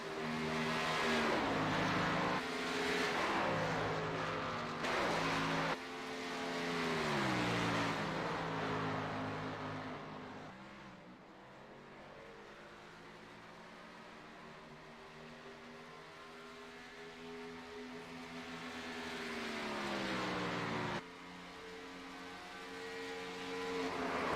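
A Ford Mustang race car on a qualifying lap, its engine droning loudly with rising and falling pitch through gear changes and throttle lifts, fading somewhat mid-run before swelling again.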